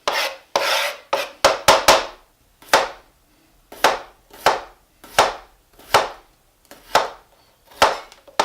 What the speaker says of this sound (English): the baby new potatoes, we're going to just slice those as thin as we can